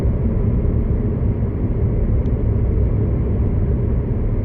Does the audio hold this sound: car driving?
yes